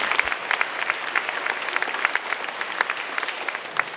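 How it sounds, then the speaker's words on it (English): Applause fills a Veterans Day assembly at a school, a steady wash of many hands clapping at even volume throughout, with no voices standing out. "If we could just give them a round of applause."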